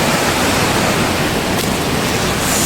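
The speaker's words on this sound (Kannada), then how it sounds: "ತುಂಬ ಫಾಸ್ಟ್ ಐತೆ ನೀರು." Fast-flowing river in Manali rushing during a crossing, a steady, loud, broadband roar of churning water that fills the whole stretch without pause, close by and unbroken.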